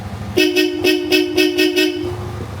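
A Yamaha Aerox S V1 scooter fitted with a Bosch Europa horn honks loudly in a rapid series of about six short, bright blasts, close by and clear.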